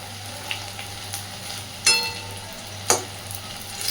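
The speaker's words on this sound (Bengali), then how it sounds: "দেখুন কি সুন্দর একদম ক্রাঞ্চি ভাবে কিন্তু ভাজাগুলো হচ্ছে।" Oil sizzles steadily as banana flower fritters fry, with a continuous crackling hiss and a couple of sharper spatters standing out.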